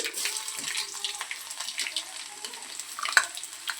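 Cumin seeds and garlic frying in hot oil in a pan make a steady, fairly soft sizzle and crackle with light spatters, ending in a brief sharper pop.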